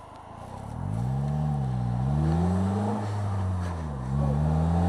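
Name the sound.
Polaris Slingshot engine while driving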